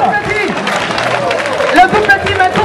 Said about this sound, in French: Je vous demande d'applaudir les garçons